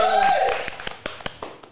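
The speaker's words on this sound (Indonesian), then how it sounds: "Tepuk tangannya dong" A handful of claps from an audience at the opening of an Indonesian talk show, sparse and uneven, following a voice that fades out at the start.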